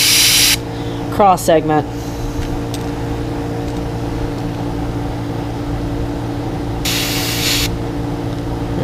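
An airbrush sprays paint through a stencil onto a crawfish fishing bait in two short, close hissing bursts, one at the start and one near the end, with a steady hum between them and someone speaking briefly.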